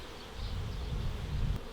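A steady, low buzzing drone of many honey bees swarming close by while being added to a nucleus hive, continuous and unbroken with no voices.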